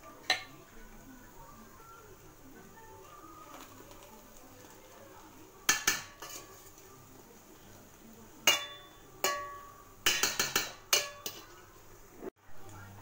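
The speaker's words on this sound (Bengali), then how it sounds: "ঢাকনাটা একটু সরিয়ে দেখে নিচ্ছি" A metal pot lid is shifted on a cooking pot over a low gas flame while Ilish polao cooks, giving sharp metallic clinks and clatters in short bursts over a quiet background.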